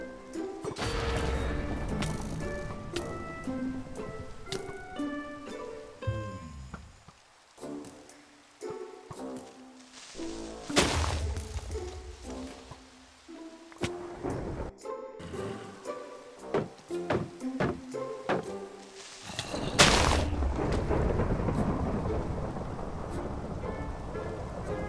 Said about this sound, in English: So I'm just going to run around until the lightning storm ends.